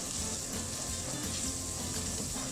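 Masala spice paste with tomatoes cooks in a pan for chicken yakhni cholay, making a continuous close sizzle and bubbling hiss with no voices.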